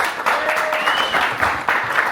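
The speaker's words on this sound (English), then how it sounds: "Start us off with a big round of applause" An audience at a live show applauds, a dense wash of clapping that swells and pulses close by, with a few faint whistles rising over it.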